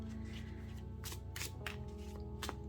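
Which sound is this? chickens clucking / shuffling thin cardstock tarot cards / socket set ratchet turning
shuffling thin cardstock tarot cards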